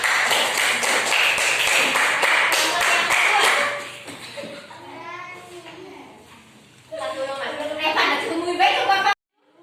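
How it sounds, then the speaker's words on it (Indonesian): A class claps for a school group in a classroom, a burst of rhythmic hand claps for about four seconds that fades into children talking and a teacher's voice, then more chatter before an abrupt cutoff. "tepuk tangan untuk kelompok angin"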